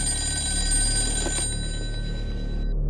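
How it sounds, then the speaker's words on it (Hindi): A telephone rings loudly and close in a house in Malabar Hill, a sharp metallic bell trill that stops abruptly about halfway through, leaving a fading hum. "मैं एक फोन घुमा दूं ना?"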